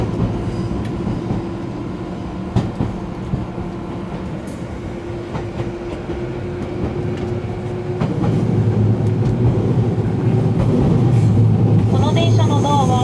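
A JR 209 series 1000 commuter train runs on the Chuo Line toward Ome, giving a steady rolling rumble with faint wheel clicks that swells louder near the end. A recorded announcement plays over the noise.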